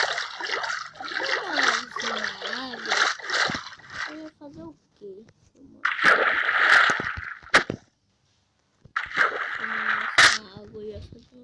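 A boat splashes and sloshes through water in Minecraft, with bursts of trickling and splashing between stretches where a person talks over it, then a short silence before more splashing.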